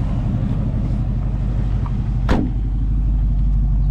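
Steady low engine rumble from a 1948 Chevrolet Fleetline Custom with a 3-inch chop, running continuously and close by, with a brief higher sweep partway through.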